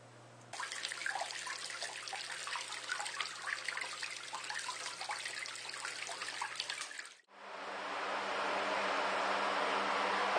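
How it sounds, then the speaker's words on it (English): Water streams evenly down through the pad of a homemade evaporative cooler, a soft, steady rush that carries on close by, breaks off for a moment and then resumes slightly brighter. "You can see the nice even water flow, top to bottom."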